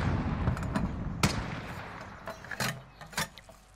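Sharp sniper-rifle shots ring out in a battle-royale duos match, a few spaced cracks with one strong report near the middle and several lighter ones toward the end over low game rumble.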